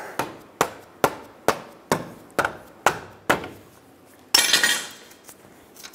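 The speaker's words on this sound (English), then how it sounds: "You may need to tap it with a hammer." Hammer tapping a ball joint bolt into the rearward lower control arm of a 2007-2012 Nissan Altima, with eight sharp, evenly spaced metallic strikes close by, followed by a longer scraping, rattling noise.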